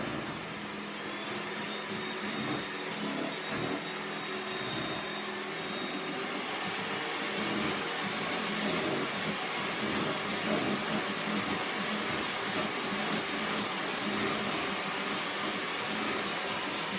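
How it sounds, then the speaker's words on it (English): An electric whisk beats eggs and sugar for a chocolate mousse cake, giving a steady, loud, continuous whirring hum that runs through the whole stretch with no pauses and no talk. "2 eggs, whisk it up,"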